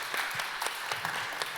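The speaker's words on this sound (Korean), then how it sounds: "박수할까요?" Claps ring out in a room for a guest at a teachers' meeting: scattered, fairly loud individual hand claps at an uneven rhythm, close to the listener.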